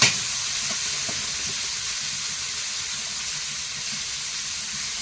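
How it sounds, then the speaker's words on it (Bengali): Prawns fry in a pan with chopped onion and ginger-garlic paste, a loud steady sizzling hiss that opens with a sharp burst as they hit the oil. "অল্প একটু পেঁয়াজ কুচি দেবো আদা রসুন বাটা এবারে চিংড়ি মাছটা দিয়ে দেবো"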